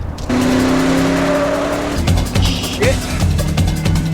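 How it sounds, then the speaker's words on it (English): Film car chase with a taxi cab: a loud car engine revs and accelerates with a brief tire squeal, heavy continuous motor noise close by, mixed with voices and film dialogue. "So they have themselves a little car chase until the Ventura douche nails them in a corner."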